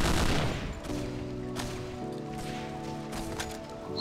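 Gunfire in Hidden & Dangerous 2 opens with a dense burst, then sharp separate shots crack over a steady tonal background hum.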